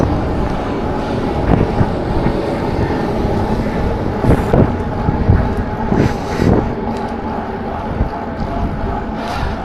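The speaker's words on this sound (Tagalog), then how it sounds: "Sobrang lakas ng hangin." Strong wind buffets a microphone while cycling, a loud continuous roar with gusty bursts and rumbling thumps throughout.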